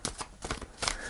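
Tarot cards shuffled and drawn from a deck, a soft papery riffle and slide with several quick flicks close by, no talking over it.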